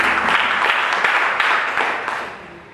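A church congregation at a Sunday service claps and applauds together, a dense burst of hand claps that fades toward the end.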